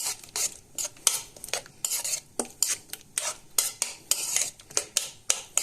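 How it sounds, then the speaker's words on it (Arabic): A utensil stirs a raw egg mixture seasoned with black pepper, cumin and salt in a bowl, making quick, rhythmic clinking and scraping strokes, close and fairly loud, with no voices. "بعد ما رشينا نقلب."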